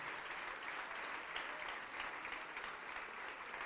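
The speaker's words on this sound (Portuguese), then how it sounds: "Vamos aplaudir mais ao nome do Senhor" A church congregation applauds in praise during a worship service, steady dense clapping filling the whole stretch at a moderate, even level with no clear voices on top.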